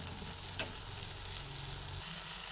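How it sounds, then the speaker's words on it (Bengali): Boiled jackfruit is stirred into spices frying in oil, giving a steady, close sizzle with soft scraping. "ভেজে নেওয়ার পরে যে এঁচড়টা সেদ্ধ করেছি সেই এঁচড়টা এর মধ্যে ঢেলে দিলাম। ঢেলে দিয়ে ভালোভাবে নাড়াচাড়া করে নিচ্ছি।"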